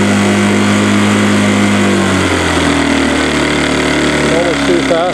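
Parsun 2.6 outboard motor running steadily with a droning hum that shifts pitch partway through, close and loud, while someone talks over it.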